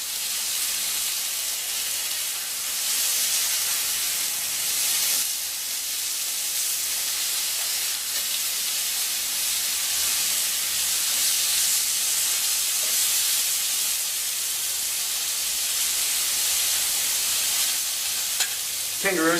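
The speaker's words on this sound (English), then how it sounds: "Now I'm just turning it on its sides so I sear each side a little bit." A kangaroo fillet sears in a hot pan, giving a loud, continuous sizzle and hiss, with a faint clatter near the end as the meat is turned onto its sides.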